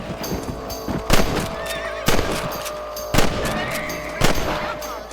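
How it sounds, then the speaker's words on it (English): Gunshots in the Red Dead Redemption video game, four sharp reports spaced roughly a second apart, each standing out over a steady outdoor game ambience with faint horse sounds. "Nice shooting!"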